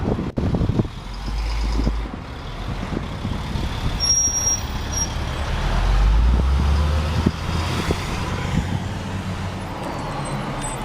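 Heavy highway traffic roars steadily beside a parked 2011 Hyundai Elantra Limited, with trucks and cars rumbling past close by and a deeper low swell as a large vehicle passes midway.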